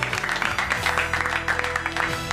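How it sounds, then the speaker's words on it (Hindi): Applause for a judge at a children's fancy dress competition, a dense steady clapping that fills the moment over a music bed, loud and continuous throughout. "जोरदार तालियां एक बार हमारे जज साहब के लिए"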